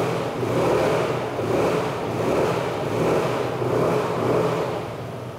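An Aprilia SR GT 200 maxi scooter engine revs steadily in repeated swelling waves, a continuous mid-pitched motor drone that eases off slightly at the end.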